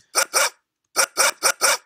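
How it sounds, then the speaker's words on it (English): A dog bark sound effect played back in a Unity scene: two loud close barks, a short pause, then four more quick barks in a tight burst, clean with silence between. "It kind of plays the whole bark."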